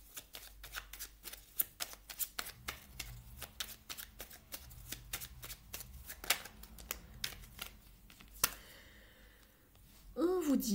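Tarot cards are shuffled in rapid bursts of crisp riffling flicks, close and clear, with a few pauses. A card is then drawn with a soft slide near the end, and no talk is heard.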